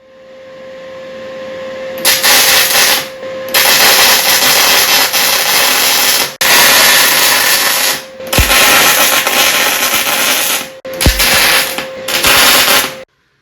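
Welding a part onto a Bolens sleeve hitch: several long, loud stretches of steady crackling arc with a faint hum, separated by short pauses, and no talk.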